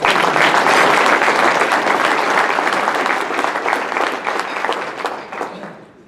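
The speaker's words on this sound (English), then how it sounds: "Give him a round of applause." A crowd at a Rotary Club business meeting claps steadily in sustained applause, loud and dense at first, gradually thinning and fading toward the end.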